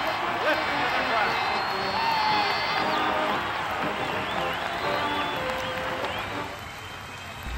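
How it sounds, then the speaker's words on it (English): College football stadium crowd cheering as the team runs out in green shirts, a loud continuous roar of voices and whoops with scattered clapping, dense and distant-sounding. "Listen to the crowd."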